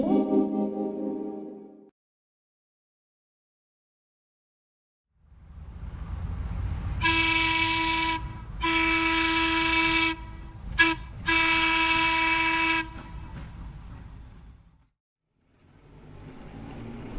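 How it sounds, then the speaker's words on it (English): A pair of Chicago North Shore and Milwaukee interurban electric cars rumble past, with two long, loud sustained horn blasts and a short toot, the rolling noise fading away afterward. "a pair of interurban cars from the Chicago Northshore and Milwaukee are seen"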